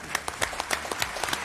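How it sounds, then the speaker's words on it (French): Studio audience on a French television show applauding a performer's entrance, a close, loud burst of dense clapping lasting a moment. "Vous voulez qu'on l'applaudisse pour qu'il arrive?"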